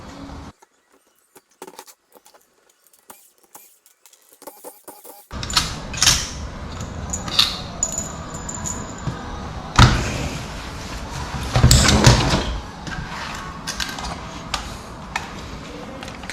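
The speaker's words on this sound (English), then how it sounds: "I'm going to pull the computer, or the TCM, Mechatronic, whatever one calls it, off the valve body" Mechatronic TCM unit being pulled off a 6L80E transmission valve body on a bench: quiet clicks and ticks at first, then louder scraping, clunks and handling knocks, with a sharp bump around the middle.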